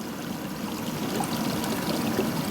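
Water spills steadily over the bakki shower of a koi pond filter, a continuous close splashing and trickling rush with no talking.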